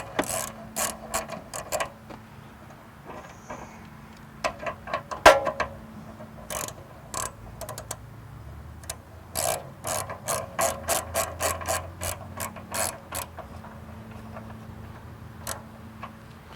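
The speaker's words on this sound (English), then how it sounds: "put it onto my socket wrench, and proceed to remove the first bolt that will hang the muffler." A socket wrench with a T45 bit ratchets out a muffler hanger bolt in repeated runs of crisp, close clicking, with short pauses between the bursts and no talk.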